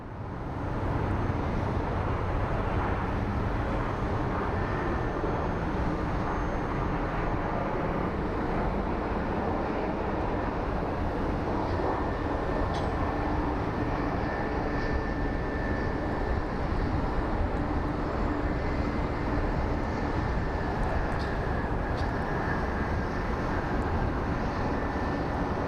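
Pegasus airliner at Phoenix Sky Harbor airport, a steady loud jet engine roar holding for the whole stretch with a faint high whine on top, no talk.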